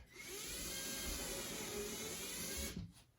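A high-pitched power drill whirs steadily for nearly three seconds driving a screw into wood, then cuts off abruptly, with no voices.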